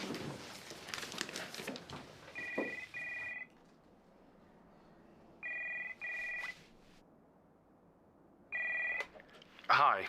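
Telephone bell rings three times in bursts of two short trills before an answering machine picks up, a clear electronic ring in a quiet room after some brief rustling.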